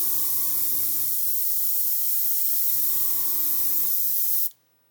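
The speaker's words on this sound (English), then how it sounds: "I'm pulling my finger back to the stop and spraying" Steady hiss of a Gaahleri GHAC-98D airbrush spraying paint, with two brief breaks in the flow before it cuts off abruptly near the end.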